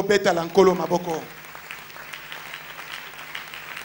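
A church congregation breaks into a soft, sustained wash of applause after a person's brief spoken line, the clapping fairly faint and diffuse in the reverberant space.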